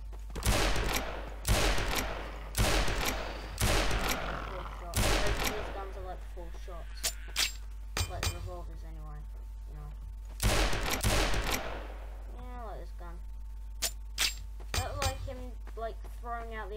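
M9K handgun gunfire in Garry's Mod: rapid bursts of loud, close shots in several clusters, with sharp single reports and metallic clinks between them, and a steady low hum underneath.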